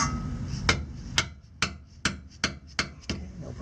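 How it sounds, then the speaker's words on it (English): A dead blow hammer strikes a wrench to break loose the differential bolts on a Galant VR4, landing about seven sharp, evenly spaced knocks close by in a quiet garage. "I'm going to use the wrench and a hammer. A dead blow hammer."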